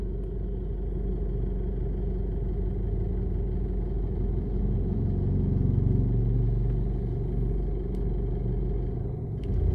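An Isuzu MU-X engine with a throttle body idle problem runs at a close, rough idle, its low rumble swelling and falling unevenly with faint clattering and no talk.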